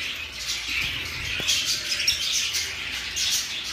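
Yellow-sided conures squawk and flap their wings in a bird-keeping setup, short sharp calls and rustling flutters over a steady hiss of background noise.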